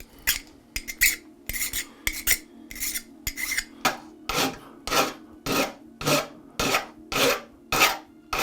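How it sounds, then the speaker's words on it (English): Sandpaper rubbed over a wooden clamp part by hand, a series of rhythmic rasping strokes, close and even, about a dozen in quick succession with no talking. "I still got to put some sandpaper in there"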